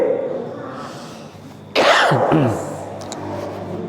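A single sharp, loud cough bursts out nearby after a quiet stretch, followed by a rasping throat sound as it trails off.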